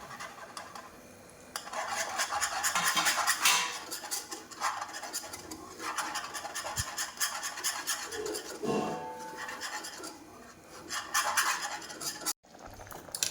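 A spoon stirs boiling dried chickpea-leaf vegetable in a pot, with steady scraping and clinking against the metal and a bubbling simmer underneath, continuous and close.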